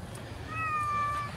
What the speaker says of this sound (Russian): Кот пришел тоже с инспекцией.